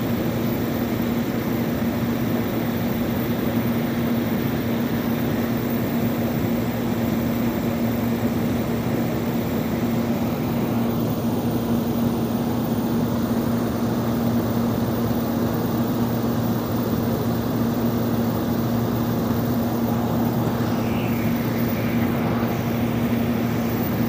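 A small propeller plane drones steadily in flight, a loud continuous engine hum with no breaks.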